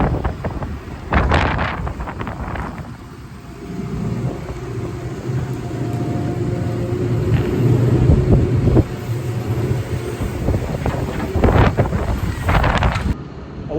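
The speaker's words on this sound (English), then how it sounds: "it's far too windy" Strong gusts buffet the microphone with heavy low rumbling and bursts of blustery noise, while an engine drones underneath throughout.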